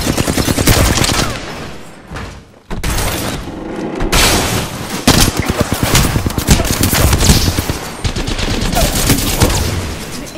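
Loud gunfire in the battle royale game Apex Legends, a steady stream of rapid automatic shots with heavy impacts and a brief gap, close and dense throughout, with no voice.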